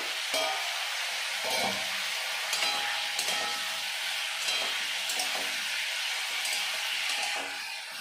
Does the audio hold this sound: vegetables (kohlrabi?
yes